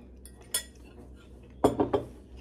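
A utensil clinks against a dish while Hereford spicy beef crumble is mixed, one sharp tap followed by a quick cluster of three metallic scrapes, close and quiet.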